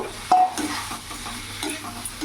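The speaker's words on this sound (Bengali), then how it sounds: "গ্যাসের ফ্লেমটা একটু বাড়িয়ে দিলাম, ভালো করে নাড়াচাড়া করে নিলাম" A spoon stirring fried ridge gourd and potatoes through spice paste sizzling in oil over a raised gas flame, steady frying hiss with a sharp scrape near the start and repeated close stirring strokes.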